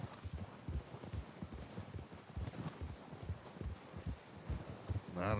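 Horses walk at a steady pace through the Western game RedM, hooves clip-clopping in a continuous uneven rhythm, fairly close and loud, with no talk over them.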